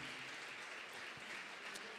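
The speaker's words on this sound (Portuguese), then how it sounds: "Vocês podem aplaudir ao Senhor nesta hora, queridos?" Faint, steady clapping from a church congregation during worship, a soft continuous patter heard at a distance with no voices over it.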